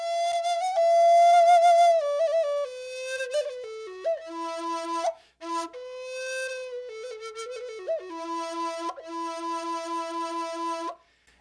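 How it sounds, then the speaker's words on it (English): An old-time flute of the kind Blow Snake played, breathy tones with a warbling wavering pitch, a lone melody of held notes and quick slides stepping down and back up, close and clear. "This is the sound that of a flute that Blow Snake would have played."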